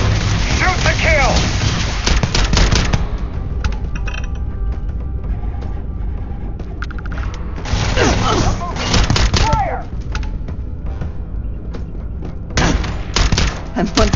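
Gunfire in the video game Starfield comes in repeated dense bursts, loud and close, with heavy thuds and mechanical noise while a player talks over the fighting.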